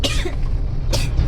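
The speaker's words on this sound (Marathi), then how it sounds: "बघा गेल्या महिन्यापासून खोकला आहे" A girl coughs twice, close and loud, short harsh bursts separated by a brief pause, after a month-long cough.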